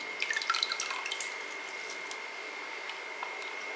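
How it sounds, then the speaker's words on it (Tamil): Water drips from rinsed flattened rice sitting in a strainer, with a few faint, quick drops close by at first and then sparser drips over a quiet background. "கையால் அப்படி இருத்து இந்த மாதிரி ஒரு வடிகட்டியில் இந்த மாதிரி வடிகட்டி விட்டுருங்க"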